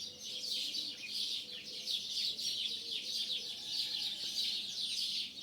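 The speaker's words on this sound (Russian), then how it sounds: "горлица, еще какие-то мелкие птицы." Small birds chirp and twitter continuously in a yard, with a turtle dove among them, a dense steady chorus at moderate distance with no talk.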